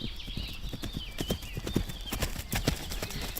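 Pony hooves clip-clop in a steady, uneven rhythm of close footfalls in an equestrian riding setting, with an occasional faint whinny-like tone above.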